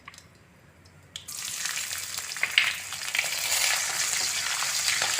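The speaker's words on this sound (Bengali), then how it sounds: "তেল গরম হয়ে গেছে, সর্ষে ফোড়ন দিয়ে দিলাম" Mustard seeds and cashews hit hot oil for sooji upma. After a quiet moment a sudden crackling sizzle bursts out and keeps going, with seeds popping close by.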